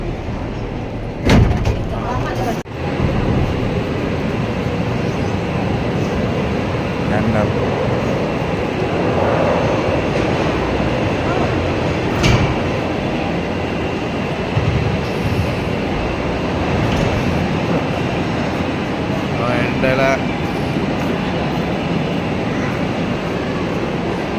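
A train rolls along with a continuous heavy rumble and rattling, a few clunks early on, while people talk over the noise.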